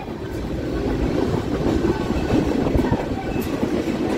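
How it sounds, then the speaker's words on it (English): A southbound CSX mixed freight train rumbles past nearby, a steady heavy roar with rhythmic clacking of wheels over the rails, no voices. "I don't know what train this is"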